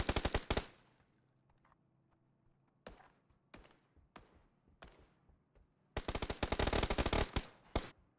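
Automatic weapon fire in a console shooter video game: a short burst opens, then scattered single shots and thuds, followed by a long, loud sustained spray of rapid shots near the end.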